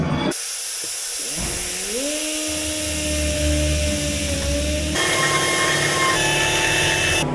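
A power drill bores into a worn baler shear during farm machinery repairs, a loud close whine that rises in pitch as the bit spins up, holds steady, then shifts abruptly into a harsher grinding tone.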